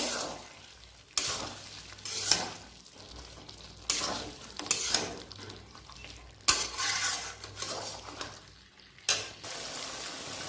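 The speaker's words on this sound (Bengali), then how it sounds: "এবার এর মধ্যে আমি গরম মশলা দিয়ে দেবো, ভালো করে নাড়িয়ে দেবো।" Garam masala is stirred into muri ghonto made with fish head, frying in a pan: bursts of vigorous spatula scraping and clatter come in waves over a continuous close sizzle, with no voices.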